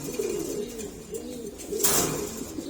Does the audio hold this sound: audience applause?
no